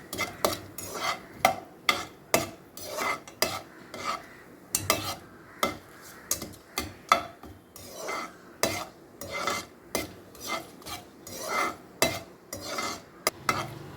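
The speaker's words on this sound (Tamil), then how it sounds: "நெய் காஞ்ச பிறகு இதில் அந்த பட்டை, லவங்கம், ஸ்டார் அனீஸ், பிரியாணி எல்லாம் போட்டுடணும்" Cinnamon, cloves, star anise and bay leaf go into hot ghee in a pan, with repeated scraping stirs of a utensil in a steady rhythm over a light sizzle, close up and without speech.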